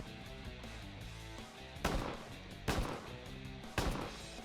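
A new Benelli Vinci shotgun fires three sharp, loud blasts about a second apart during dove hunting in the fields of Córdoba, Argentina, with steady background music beneath.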